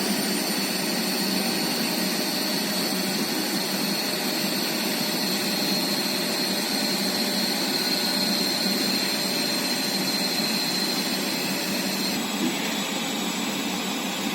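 A DC shunt machine runs at 1100 RPM with a loud, steady whirring hum and a constant high whine, even and unbroken throughout.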